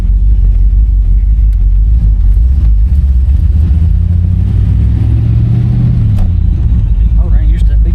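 A 1966 Chevrolet Impala SS convertible with a big block engine accelerates hard, a loud close rumbling roar building in pitch before an upshift, with wind buffeting throughout.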